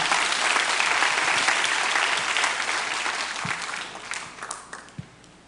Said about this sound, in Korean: 우리 큰 박수로 환영하시겠습니다